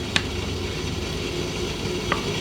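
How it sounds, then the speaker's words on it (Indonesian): Shallots, garlic, candlenuts and red chili fry together in hot oil with a steady, dense sizzle, broken by two brief metallic clinks of a utensil against the pan. "ada bawang merah, bawang putih, dan kemiri. Ini semua kita goreng bersama cabai merah."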